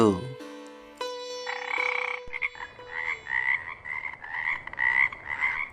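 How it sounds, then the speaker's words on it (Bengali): Frogs in a pond croak in a rapid, throaty series after a short musical tone at the start, the calls pulsing repeatedly, close and fairly clear. "ওই শোনো ব্যাঙের ডাক"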